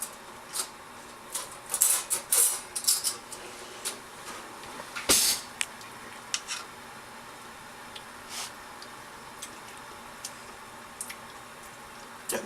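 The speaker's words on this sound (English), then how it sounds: "just mash that in with your potatoes" Garlic is mashed into cooked potatoes, making soft, intermittent squishy taps and clicks. The sounds come in scattered clusters, close but quiet, with a few firmer knocks and long gaps of near silence.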